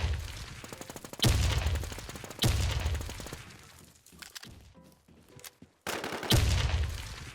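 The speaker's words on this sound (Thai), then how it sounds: "ยิงกันเจ็บจัด" Bursts of automatic gunfire from the video game Call of Duty Warzone, several loud sustained volleys separated by quieter stretches with scattered shots, close and dominant with no talking.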